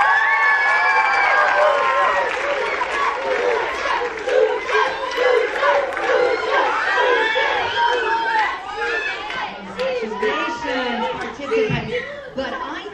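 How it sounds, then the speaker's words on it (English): Audience at a lower school talent show, a mix of cheering, laughter and lively chatter from a crowd with children's voices, fairly loud and continuous, easing somewhat toward the end. "a round of applause for our participants"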